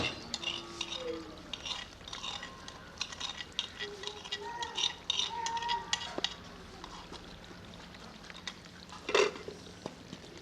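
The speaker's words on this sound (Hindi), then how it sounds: "इसे थोड़ा सा मिक्स कर लेंगे" Cream being stirred into Afghani aloo karahi off the heat: soft, steady scraping and light clinks of a spoon against the pan, with faint sizzling, close and quiet, and a brief sharper knock near the end.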